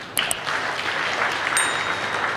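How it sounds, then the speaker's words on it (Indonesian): Sparse, half-hearted applause from a church congregation during a sermon, a thin patter of claps with a couple of sharper single claps, fairly steady and not very loud. "Dari tepuk tanganmu gak niat memang."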